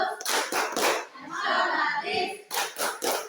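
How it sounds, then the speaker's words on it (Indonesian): A school class performs the rhythmic PPK group clap in unison, with two bursts of sharp, close, patterned hand claps separated by a stretch of group voices in the middle. "Kita akan tepuk PPK terlebih dahulu."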